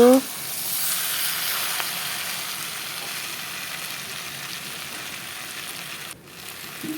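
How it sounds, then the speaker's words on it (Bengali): Potato, eggplant and tomato curry sautéing in a pan, a steady hissing sizzle close by that continues throughout and briefly dips near the end. "দেখতে থাকো আরও কিছু সময় কষিয়ে নেই"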